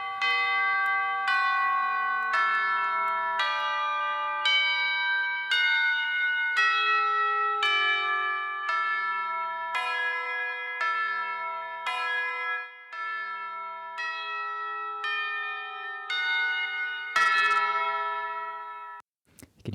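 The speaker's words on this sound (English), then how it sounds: "It's mostly just those bells." Bright bell tones in a music mix struck in a steady sequence of about fifteen ringing hits, each with a long shimmering decay, loud and running right at the edge of clipping.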